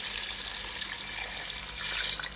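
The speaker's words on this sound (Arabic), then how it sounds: "هنزودها ميه" Water pours steadily into a cooking pot of stewed head meat and tomatoes, a continuous close hiss and trickle with no talking.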